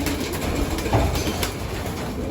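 Pigeon hens in a breeding colony loft, with soft cooing that is hard to pick out against steady, broad background noise lasting a couple of seconds.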